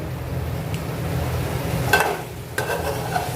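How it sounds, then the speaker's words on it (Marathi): Tomato puree frying in oil for butter chicken masala, stirred with a utensil, giving a steady close sizzle with a few scraping stir strokes and light clinks. "टोमॅटो प्युरी पण आपली चांगल्या प्रकारे असं छान भाजून घ्यायचं आहे।"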